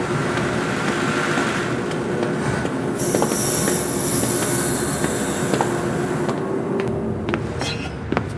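A train in the horror video game Zoochosis rolls along with a steady loud rumble of wheels on rails, a high squeal entering partway through and a few clanks.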